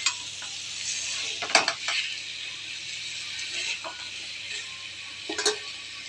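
A spoon scrapes and clinks against a pan while fried potato and pointed gourd are stirred into spices, with a soft continuous sizzle beneath intermittent metallic taps.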